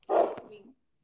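A puppy gives a single short, high bark close by, ending in a brief yelp-like tail, with no talk over it.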